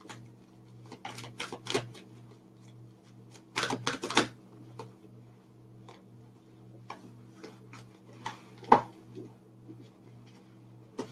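Tarot cards are shuffled by hand in two short bursts of crisp riffling and tapping, with scattered soft card ticks between them over a low steady hum in a quiet room; no one speaks.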